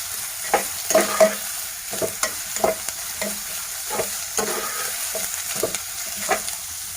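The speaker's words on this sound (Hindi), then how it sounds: "अब हम स्लोली प्याज को भूनेंगे" Onions being slowly fried and stirred in a pan, a soft continuous sizzle broken by repeated scraping and stirring strokes at an uneven rhythm, close by and with no talking.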